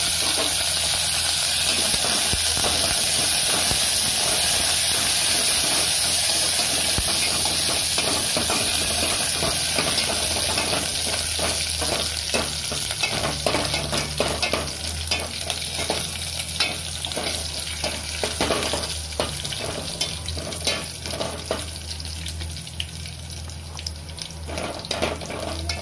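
Green chillies and curry leaves sizzling in hot oil as a tempering for a cumin and black pepper curry, a loud, steady hissing fry with constant crackle and stirring that carries on without pause, close to the pan.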